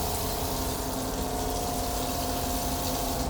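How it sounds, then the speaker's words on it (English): A food truck's water pump runs steadily beneath the sink, giving a constant motor hum and whir with a watery gush layered over it, close and even throughout. "you got your water pump switch, which should turn on your water pump that's down there under the sink"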